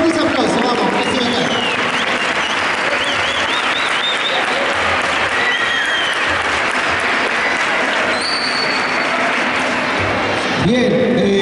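Loud, sustained audience applause fills a school sports closing ceremony, dense clapping continuing without pause for several seconds, with faint voices and cheers mixed into the crowd noise.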